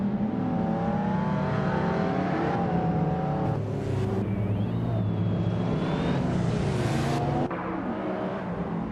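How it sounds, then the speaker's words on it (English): A 1997 Lamborghini Diablo SV in a racing video game accelerates off the start line, its engine revving up through rising gear steps with sharp shifts, loud and steady, with other engines layered underneath. "Indigo Pete has shot off the line to take the lead"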